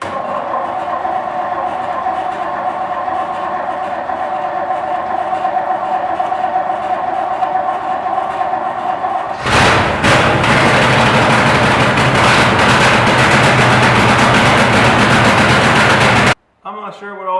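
A Modine hanging unit heater starts up after sitting unused for months, shifting from a steady whir into a loud, harsh, broadband roar and rattle that runs for several seconds before cutting out abruptly.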